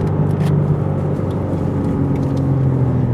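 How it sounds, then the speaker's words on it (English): A track-focused car drives on a race track, its engine holding a steady, loud droning hum heard from inside the cabin, with no voices over the constant rumble. "This is a more track-focused car without question."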